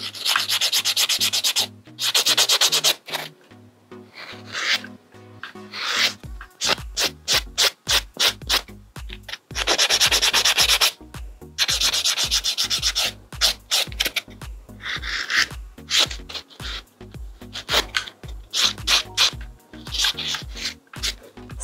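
A nail buffer is rubbed briskly across a fingernail, close and crisp. Long strokes come first, then a fast rhythmic run of short back-and-forth passes with brief pauses between.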